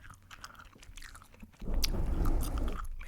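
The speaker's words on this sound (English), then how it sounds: "Maybe it's just gum chewing and chilling and mic scratching" Gum chewing right against the microphone turns loud and wet partway through, a steady stream of smacking, crunchy mouth sounds after a quieter start.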